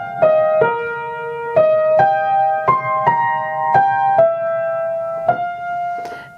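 A piano melody played with detached fingers, the notes joined only by the sustain pedal: around ten single struck notes at an even, unhurried pace, each ringing on and overlapping the next, close and moderately loud.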